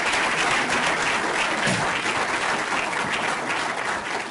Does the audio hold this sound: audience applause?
yes